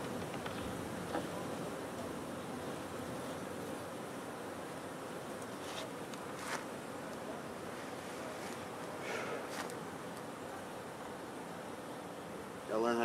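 Honeybees humming around an open backyard hive, a steady faint outdoor drone with occasional louder passes of individual bees close by.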